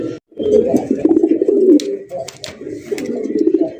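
Fancy pigeons coo continuously in low, throaty rolling calls, close by, with a few faint chirps and clicks scattered over the top.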